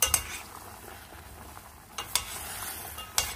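Walnuts and cinnamon bark being stirred in a pan, making a soft continuous sizzle with a few sharp clinks of a utensil against the pan near the start, middle and end.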